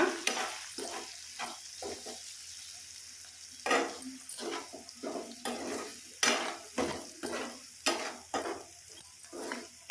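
Curry with chili powder stirred in a pan, a spoon scraping and clacking against the metal in a steady uneven rhythm of strokes over a soft sizzle, close and moderately loud with no talking.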